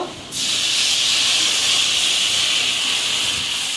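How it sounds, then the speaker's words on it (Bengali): Turmeric water poured into a hot pan of lightly fried garlic sets off a sudden loud hiss of steam that starts sharply and holds steady and close, with no talking. "হলুদের পানিটার মধ্যে এখন আমি পানিটা দিয়ে দিব"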